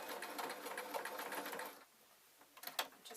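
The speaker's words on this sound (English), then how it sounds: "Now the machine in places is going to be sewing through quite a few layers of fabric" Domestic sewing machine stitching a circular seam through several layers of fabric on a Scottish tam hat, a rapid close whirring run that halts, then a few short bursts of stitching near the end.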